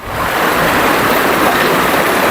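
Rushing stream of water flowing steadily at a new rainy-season tourist spot in Ubon Ratchathani, Thailand; a loud, continuous broadband wash with no voices over it.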